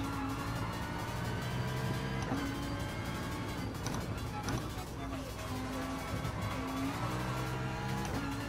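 Racing car braking in the video game GT Sport, a steady loud engine drone with pitch shifting as the car slows, a faint tire squeal mixed in, other cars close by.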